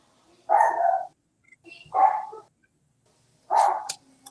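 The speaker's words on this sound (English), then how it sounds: "My dog be walking by." A dog barks three times as it walks past, each bark short and fairly close, separated by quiet pauses of about a second with nothing else around.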